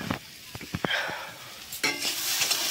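Cauliflower and potato pieces frying in a pan for curry, with a few spoon scrapes and stirring clinks followed by a rising hiss of sizzling oil, close up and with no talking.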